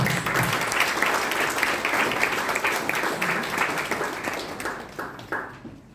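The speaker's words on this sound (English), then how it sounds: "We welcome you with a big round of applause" An audience at a motivational session at an institution gives a burst of applause, dense clapping that is loud at first and thins out toward the end.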